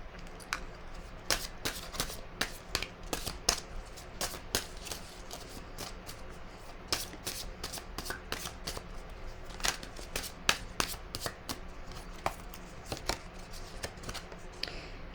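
Tarot cards are shuffled by hand in a quiet room, producing a long run of soft, irregular riffles and sharp little card snaps at close range.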